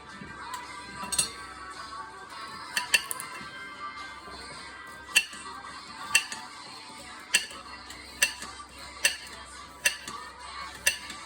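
A knife slicing carrots on a cutting board, with sharp irregular clicks and taps roughly once a second, close-up over a quiet background with no talk.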